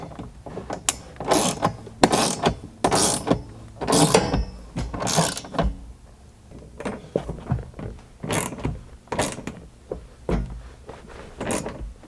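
A hand ratchet clicks rapidly in repeated bursts while tightening the seatbelt mounting bolts in an 80 Series Land Cruiser, close and fairly loud, with brief pauses between strokes and no talking.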